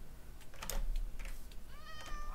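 In Minecraft, a cat lets out a clear, rising meow near the end, preceded by scattered keyboard clicking, the whole thing soft and close-up.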